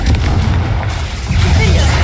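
A Confringo spell in Hogwarts Legacy erupts as a loud, deep, rumbling blast with sustained booming low end and crackling debris, sitting up close and dominating the moment.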